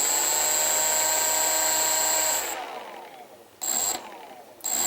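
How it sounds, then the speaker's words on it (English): An RC motor driven by an ESC on test whines at a steady pitch, then cuts out and restarts in short bursts, with stuttering, uneven jittering instead of a smooth spin. "So that jittering is not normal. This is supposed to be moving smooth."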